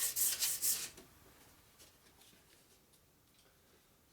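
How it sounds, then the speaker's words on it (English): Rhythmic rubbing strokes of hand sanding on a custom chopper motorcycle part, loud for the first second, then fading to faint, sparse scratches. "I got some sanding to do"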